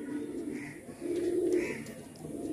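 Pigeons of an old Andhra flying line cooing close by, two soft rolling coos in quick succession with no other sounds.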